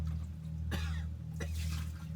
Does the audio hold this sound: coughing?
yes